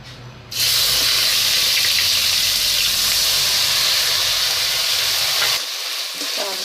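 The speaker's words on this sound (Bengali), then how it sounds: "ঘিয়েতে ভালো করে চালটাকে ভেজে নেব" Rice hits hot ghee with cloves and bursts into a sudden loud, hissing sizzle that stays steady, then eases down and is followed by a few light clinks of stirring.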